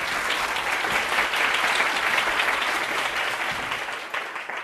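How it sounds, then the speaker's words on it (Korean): Audience applause welcoming fund manager Kang Bang-cheon, chairman of an asset management firm, to the stage at a CEO lecture for university students; dense, steady clapping from a large hall crowd that holds strong before tapering slightly at the end. "큰 박수로 맞아주시죠."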